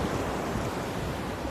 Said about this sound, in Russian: Охуенные волны, смотри.